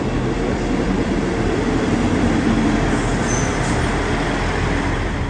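A ScotRail train, unit 158871, rumbling past nearby as a loud, steady low roar of wheels on rail, with a faint squeal near the middle and no voices.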